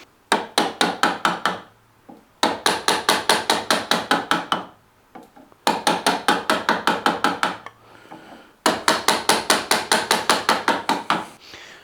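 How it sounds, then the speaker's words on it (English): Chiseling a wooden SG guitar body, four bursts of rapid, regular sharp taps, each run of about a dozen strikes separated by short pauses, close and loud. "it is just a case of chisel, chisel, nibble, nibble,"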